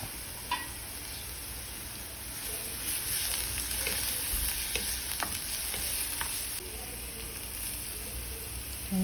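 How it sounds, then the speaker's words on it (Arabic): Onions and peppers sauté in oil, giving a steady hissing sizzle with intermittent scraping and knocking as the mix is stirred and turned in the pan. "راح نحط زيت وراح نحط بصل ونشوحهم مع بعض"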